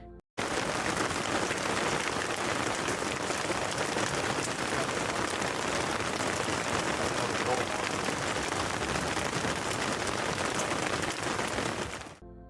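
Heavy rain pours down steadily in a forest during a storm, a dense, continuous roar that stays loud and even from start to finish with no voices.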